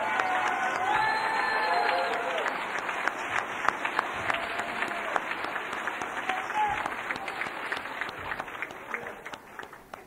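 At a banquet, an audience applauds steadily for about ten seconds, with dense clapping that slowly thins toward the end and a few faint cheers mixed in.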